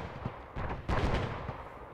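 Grenades detonating in a military video game firefight, several dull booming thuds in quick succession with gunfire crackle in a noisy battle backdrop.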